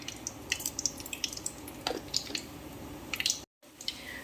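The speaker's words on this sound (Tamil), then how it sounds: "கடுகு பொரிஞ்சிருச்சுங்க" Mustard seeds spluttering in hot oil heat up in a pan for a shark fish curry, giving quick, scattered crackles and pops that come close and sharp, with a brief gap near the end.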